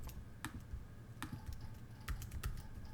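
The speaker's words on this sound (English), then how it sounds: "you're going to hit the greater than symbol on your keyboard" Keys on a computer keyboard click sharply in short, irregular bursts, with pauses between the keystrokes. The typing is faint and close against a quiet background hum.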